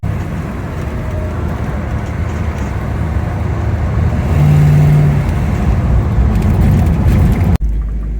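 A car engine pulls hard under sustained load, a steady loud drone swelling slightly mid-way before cutting off abruptly near the end, driven flat out to provoke overheating after a steel seal head-gasket treatment.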